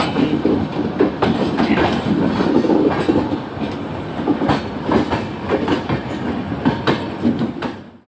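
Humsafar Express 02569 passenger train from Darbhanga to Delhi rolling along the rails, a steady close rumble broken by rhythmic wheel clacks, with no one speaking.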